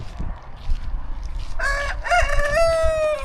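A rooster on a South African farm crows loudly and close by, a drawn-out cock-a-doodle-doo that starts halfway through and rises over a background of rustling and low ambient noise.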